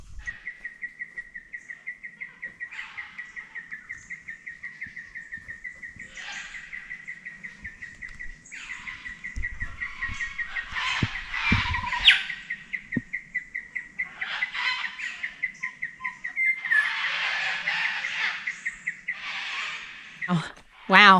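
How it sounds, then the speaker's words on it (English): Birds call and squawk repeatedly from nearby in Cania Gorge National Park, with a steady high chirping throughout and louder bursts midway, against a quiet outdoor background. "The birds are really going off in this section."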